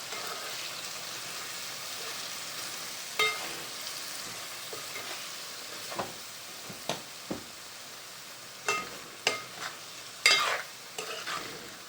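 Soft continuous sizzle of cluster beans and masala for pomfret curry in a pan, with scattered clinks and scrapes of a spoon stirring, growing more frequent toward the end.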